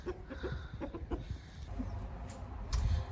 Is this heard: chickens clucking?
yes